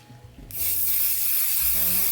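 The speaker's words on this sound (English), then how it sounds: "not only are we going to spray adhesive to adhere the stabilizer" An aerosol can of spray adhesive sprays onto fabric and stabilizer in a long, steady hiss lasting over a second, close by, after a moment of quiet handling.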